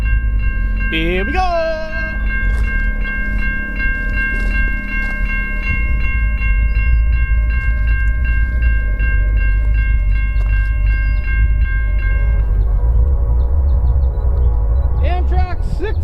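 Amtrak 69 passenger train rolling past nearby, a loud continuous rumble of cars under a long sustained horn blast that cuts off near the end, with a person's voice calling out briefly over it.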